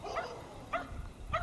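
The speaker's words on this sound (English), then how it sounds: "Dogs are barking at me." Dogs bark three times at a construction site behind a house, short harmonic yaps spaced about half a second apart and heard at a moderate distance over low rumbling background noise.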